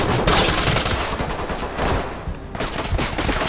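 Gunfire in the video game Fortnite, a loud, sustained stream of rapid shots forming a dense rattle throughout, close and with no talking over it.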